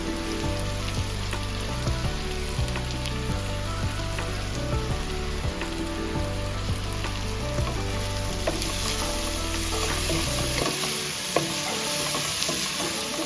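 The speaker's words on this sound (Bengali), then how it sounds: "আমি কুচি কুচি করে কেটে রেখেছিলাম রসুন, সেইটা একটু দিয়ে দেবো।" Chopped garlic sizzles steadily in a hot pan for rajma, with scraping stirring strokes throughout and a low tonal hum running beneath until near the end.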